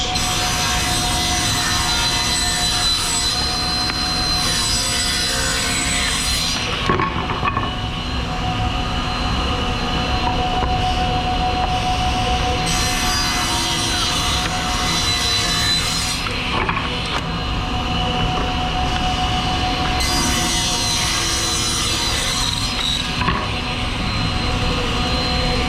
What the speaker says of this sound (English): ripping our other parts, rails and stiles.